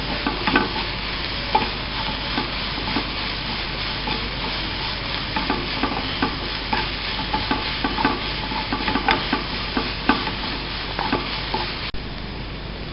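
Sliced onions with salt are stirred in a frying pan for egg bhurji, a constant hiss of sizzling oil broken by frequent close scrapes and taps of the spatula.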